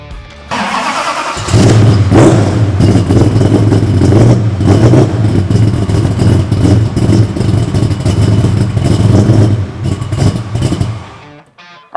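A modified 1968 Dodge Dart cranks briefly, then its engine catches with a loud roar and settles into a heavy, rumbling idle punctuated by repeated sharp revs, close and continuous, ending abruptly.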